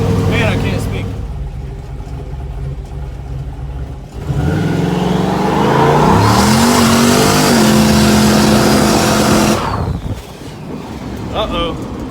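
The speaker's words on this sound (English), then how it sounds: "Time for a celebratory burnout." A 1968 Chevrolet C10 with a turbocharged LS 5.3 V8 roars through a loud burnout, the engine revving hard with rising turbo whine and tire roar for several seconds before cutting out abruptly. Voices are faintly audible before and after.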